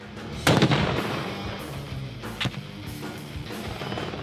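Explosions from a grenade or rocket launcher hitting an enemy position during a US Army Ranger competition, with a loud sharp blast near the start, a second burst midway, and continuous rumbling noise throughout.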